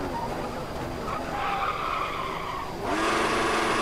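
Car tyres in Formula 1 2014 screech in a sustained skid over a constant engine drone, the squeal rising and intensifying toward the end.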